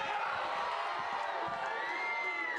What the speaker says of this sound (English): The crowd slightly in favour of Kane tonight.